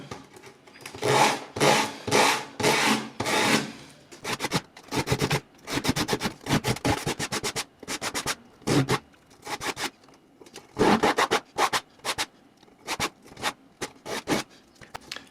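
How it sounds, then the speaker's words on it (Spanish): Fine 120-grit sandpaper rubs a handmade wooden ring in repeated scratchy strokes, quick rhythmic bursts with short pauses, close and fairly loud. "vamos a darle una lija un poco más fina en 120"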